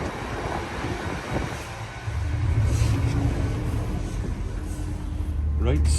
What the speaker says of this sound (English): now running on diesel power, and we're on the move